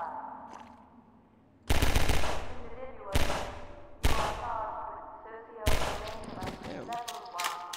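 Gunfire in Half-Life 2, a quiet stretch and then four loud, close blasts, each trailing off in a long echoing decay, the last followed by rattling debris.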